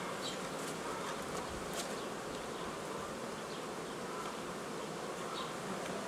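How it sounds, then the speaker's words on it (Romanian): Overwintered hive nucleus packed full of honey bees, giving a steady, dense, close buzzing hum that fills the whole stretch without any speech. "Aici este un nucleu iernat, care este full cu albina"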